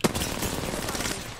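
A short, sharp volley of automatic gunfire crackles in a competitive shooter game, a burst of close shots in quick succession lasting barely over a second.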